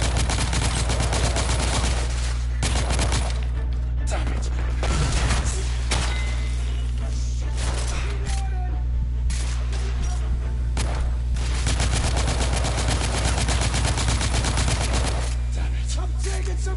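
A compact submachine gun in The Order: 1886 fires in rapid sustained bursts over a constant low hum, broken by short pauses, loud and close.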